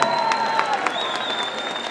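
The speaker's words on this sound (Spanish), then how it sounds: "Un aplauso para Claudia." Applause and some cheering from a comedy show audience in Arequipa for a woman named Claudia, a dense steady clapping wash with a sustained tone running through it.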